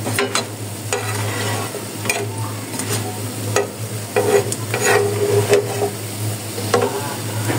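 Crispy potato sticks fry in hot oil with a steady close sizzle, broken by repeated clinks and scrapes of a utensil stirring and lifting them from the pan.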